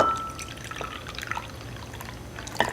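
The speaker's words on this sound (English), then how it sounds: "So now you can just pour off your extra water and pour it into a bowl here." Excess water is poured off homemade glitter slime into a bowl, giving soft trickling and dripping splashes at close range, with a brief louder splash near the end.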